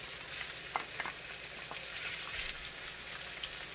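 Onions sautéing in a pan give off a steady close sizzle, with soft crackles and pops scattered through the frying and no voices.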